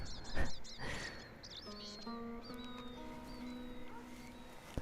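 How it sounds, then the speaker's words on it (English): Crows in the video game Red Dead Redemption 2 caw in quick repeated bursts at first, then give way to sustained tonal calls and chirps against a quiet ambient background. "I can hear so many crows."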